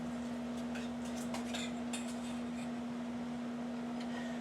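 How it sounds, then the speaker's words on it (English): A utensil stirs a low-carb ground turkey bake mixture in a dish, giving a few soft scraping clinks over the first couple of seconds, close and faint, under a steady background hum. "Give it a stir."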